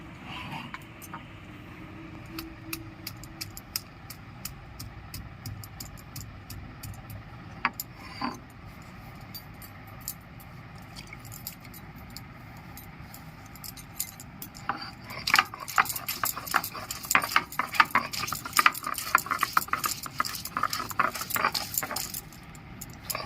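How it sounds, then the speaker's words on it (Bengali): Garlic and ginger ground into a paste by hand, producing rapid, repeated scraping and clinking taps that grow busier and louder toward the end, close up, with no talking. "রসুন আর আদাটা আমি বেটে নিচ্ছি"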